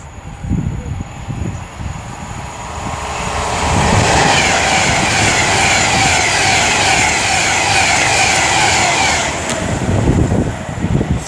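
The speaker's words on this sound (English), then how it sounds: "but here's a Pendolino." An Alstom Pendolino train passes through Lichfield Trent Valley station, its roar swelling from a quieter rumble to a loud, steady rush that holds for several seconds before easing near the end.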